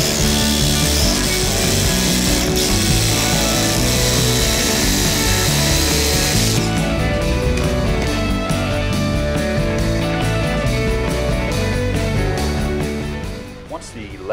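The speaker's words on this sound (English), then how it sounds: "I cut some notches into the tops of the 2x4s." A power saw cuts notches into the tops of 2x4 wooden boards during a camper van build, a loud continuous buzzing grind that changes tone partway through and runs nearly the whole time before trailing off at the end.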